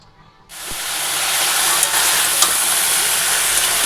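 Mixed vegetable chorchori with chilli hits a hot wok and breaks into a loud, steady sizzle that starts abruptly and continues unbroken, close and without speech.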